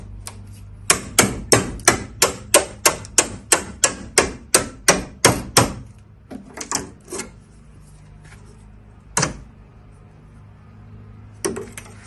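Rapid hammer blows knocking small wooden side trim pieces off an old hundred-year-old wooden dresser, a quick steady series of sharp knocks, then scattered slower taps and a few lone strikes.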